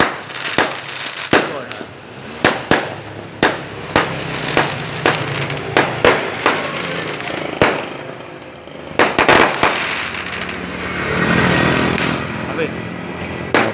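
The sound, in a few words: firecrackers exploding in the night sky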